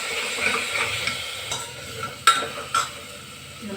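Finely chopped tomatoes and onions sizzle softly in a pan, broken by a few sharp scrapes and clacks of a spoon stirring, close and fairly quiet with no voices.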